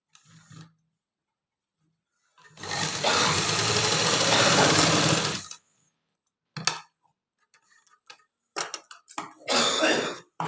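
A sewing machine stitches a pants pocket in a single loud burst of about three seconds, close by, followed by scattered handling knocks and short rustles.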